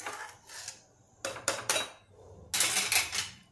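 A utensil scrapes and stirs inside a metal pressure cooker of pav bhaji in a few bursts, close and moderately loud, with brief pauses between strokes.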